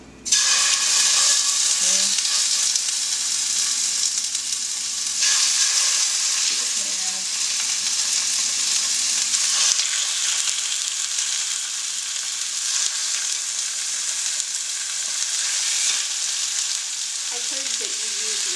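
Chicken thighs fry in hot olive oil in a pan, a loud continuous sizzle that holds steady throughout, with occasional soft clinks and scrapes of handling.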